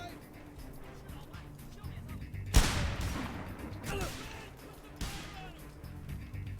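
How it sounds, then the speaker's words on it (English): Shotgun blasts in a video game: a sharp, loud burst near the middle and another a few seconds later, each followed by a rumbling tail over steady background game noise. "Are you trying to shoot me with a shotgun from that distance?"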